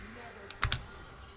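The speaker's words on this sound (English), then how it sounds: "It's X on the keyboard." A computer keyboard is tapped during a League of Legends match broadcast: two quick, close key clicks stand out over quiet background hum.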